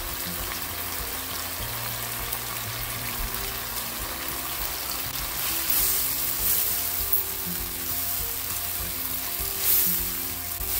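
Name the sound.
tamarind and tomato sautéing with onion in pan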